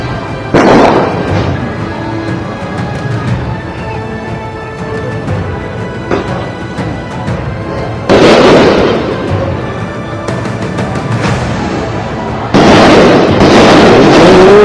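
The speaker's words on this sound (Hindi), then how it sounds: "যেখান থেকে পুলিশের গুলির শব্দ পর্যন্ত পাওয়া যাচ্ছে" Police gunfire during protest clashes in Kathmandu: loud, sharp bursts crack out at intervals over a constant din of crowd and street noise.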